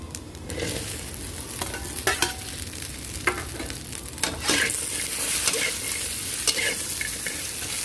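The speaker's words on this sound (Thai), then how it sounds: "แล้วก็ใส่กระเจี๊ยบลงไปผัดเลยค่ะ" Okra stir-fried in a pan gives a close, continuous sizzle with repeated scraping stirs and light clacks of the utensil against the pan.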